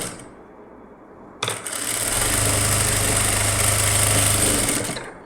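Sewing machine stitching a blouse lining: after a quiet start, a fast, rapid mechanical chatter with a low rumble sets in and runs steadily and loudly before easing off at the end, with no talking.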